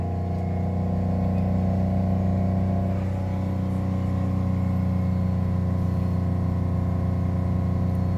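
The engine of a 2011 Chrysler Town & Country minivan runs steadily under light throttle, a close, even hum with a low rumble and no sharp surges.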